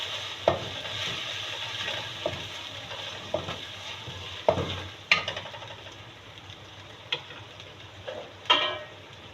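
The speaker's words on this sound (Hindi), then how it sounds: "तो मसाला हमारा अच्छी तरह भुन जाए।" Masala of browned onion, cumin and garlic-ginger paste frying in a pan for sarson ka saag, a steady sizzle broken by repeated sharp scrapes and taps of a spoon stirring, close and alone.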